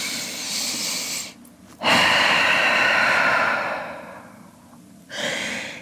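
Long, deep breaths in a yoga downward dog pose, heard as loud, close, airy inhales and exhales in slow rhythm with brief pauses between them.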